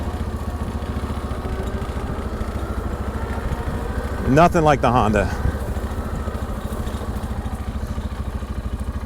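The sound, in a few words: ATV engine braking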